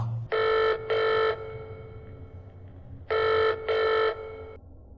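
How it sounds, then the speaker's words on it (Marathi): A telephone rings in two double bursts, loud, clear and electronic, with a pause between the pairs. "पण थोड्याच वेळात काकाचा फोन आला"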